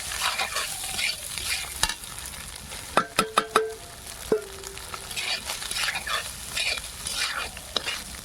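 Cooked rice and eggs stir-fry in a pan with a steady sizzle, broken by a cluster of metallic clinks and scrapes from a spatula against the pan partway through.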